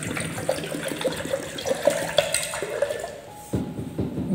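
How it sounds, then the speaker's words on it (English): Distilled water poured from a bottle into a laboratory beaker gives a steady trickling, gurgling flow close by. The stream weakens near the end, and one louder splash or knock follows. "So I pour the distilled water."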